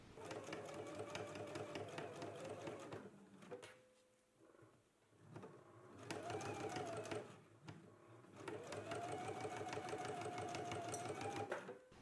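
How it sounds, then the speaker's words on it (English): Home sewing machine understitching the facing of a skirt, running in three bursts of quick rhythmic stitching with short quiet gaps and small clicks between them, fairly faint and with no speech. "let's go ahead and do some understitching"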